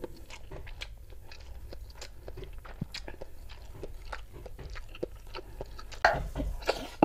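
Close-up eating of an egg dish cooked with onion and shrimp paste, with soft wet chewing and bites repeating steadily over several seconds, no talking, and a louder crunchy burst near the end.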